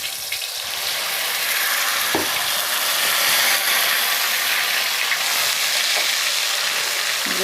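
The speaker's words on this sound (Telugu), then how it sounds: "ఈ ఉల్లిపాయ పేస్ట్ ఉంది కదండి, మెత్తగా రుబ్బుకున్నది, ఇగో అది వేసుకోవాలి." Ground onion paste sizzles in a hot pan, giving a loud, steady frying hiss throughout, with a few faint clicks and knocks near the pan.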